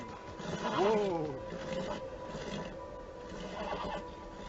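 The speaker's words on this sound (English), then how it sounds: "That is a very pink horse." A horse in the video game Beyond: Two Souls lets out a loud descending whinny early on, followed by quieter snorting and breathy sounds under a continuous game ambience.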